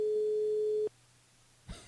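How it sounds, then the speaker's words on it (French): Telephone ringing tone on an unanswered call, a single steady electronic tone lasting about a second, then a pause before a faint click. "Ah bah, il sonne, mais bon, il répond pas."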